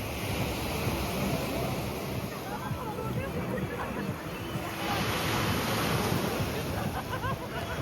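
Surf washes steadily onto a crowded Black Sea beach in Chornomorsk, a constant rush of waves blended with wind on the microphone and a background murmur of beachgoers.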